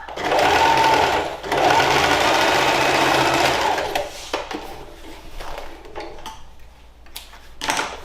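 Sewing machine stitching the seams of an oilcloth tote bag, running loud and steady in two long bursts over the first four seconds, then quieter intermittent whirring and handling noise.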